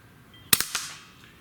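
Umarex Notos air rifle fired at a shotgun shell target, a sharp crack followed quickly by a couple of smaller impact snaps, alone in a quiet setting.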